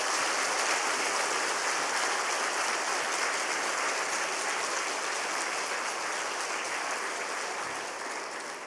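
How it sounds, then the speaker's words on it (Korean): A church congregation at an autumn revival meeting applauding warmly to welcome the preacher, a dense, even wash of clapping from many hands that holds steady and tapers slightly at the end, with no talking. "나오실 때 우리 뜨거운 박수로 또 맞이하십시다"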